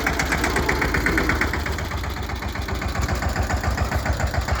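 A mini tractor works a field, making ridges and furrows at 27-inch row spacing for groundnut sowing. Its engine runs close and steady throughout, with a loud, even, rapid mechanical chugging.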